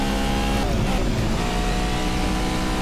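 A Porsche 959 engine roars in Asphalt 8, a loud, steady, buzzing drone with a slight dip in pitch near the start before holding an even tone.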